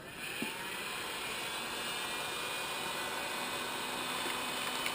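A heat gun blows a steady, close hiss-like rush of hot air while shrinking an adhesive glow skin onto a popper fishing lure, constant in level throughout.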